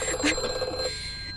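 A telephone rings in a short, steady burst, moderately loud and fairly close, with a faint background hum and no voices.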